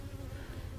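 Honeybees at an open hive in a Texas beekeeping yard give off a brief, steady, low buzzing hum close by, with no voices.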